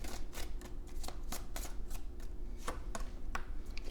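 Tarot cards being shuffled and drawn, giving a run of crisp, close papery flicks and snaps at an irregular rhythm, with steady low background hum and no talking.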